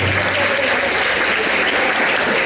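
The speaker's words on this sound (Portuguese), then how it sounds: "uma salva de palmas para você" A congregation at a church retreat gives loud, continuous applause, a dense wash of many hands clapping close and steady with no pause.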